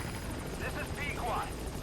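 Helicopter at the extraction point in Metal Gear Solid V: The Phantom Pain, a steady rotor and engine drone under game ambience, with a few brief higher tones over the top and someone talking throughout.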